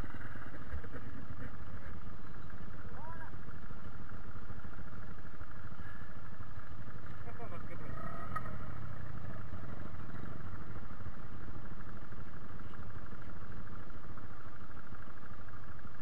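A trail motorcycle with a clogged carburetor runs at a steady idle, a continuous low throbbing rumble close by with light mechanical clatter, and no talk over it.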